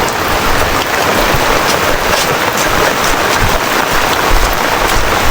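Heavy, steady rain pouring down in a dense, continuous hiss, close and loud throughout.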